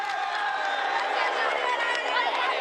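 Roadside crowd at a Tour de France stage cheering the race leader on a climb, a dense, steady roar of shouts and whistles sustained throughout, with a commentator's voice over it.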